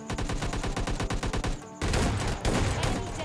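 An S12 shotgun in PUBG Mobile Lite fires in a fast, regular string of loud booming shots, then two heavier blasts close together near the end.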